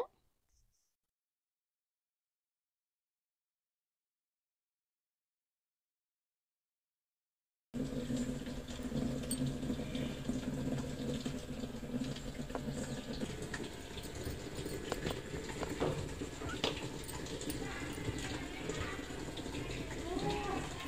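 A Bosch top-loading washing machine starts abruptly after a long silence, then runs loudly with a steady, heavy rush of water and churning rumble that continues to the end.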